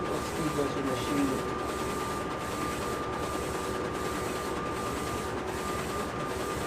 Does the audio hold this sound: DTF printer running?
yes